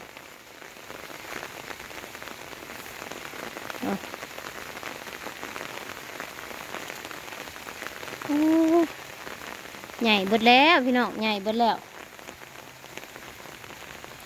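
Rain falls steadily, a soft continuous patter, while a voice sings briefly in the middle over it.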